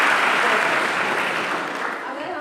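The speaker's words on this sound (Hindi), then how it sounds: "जोरदार तालियां बच्चों के लिए।" A roomful of schoolchildren gives sustained, vigorous applause, thick continuous clapping that tapers a little near the end.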